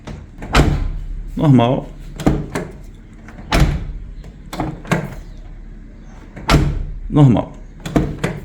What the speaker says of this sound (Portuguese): Então vamos fechar a porta aqui normalmente, né?